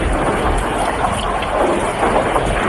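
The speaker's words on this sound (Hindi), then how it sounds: "जंगल में बहुत तेज बारिश हो रही थी।" Heavy rain pouring in a forest in a cartoon, a dense continuous roaring wash of noise, loud and steady throughout with no voices.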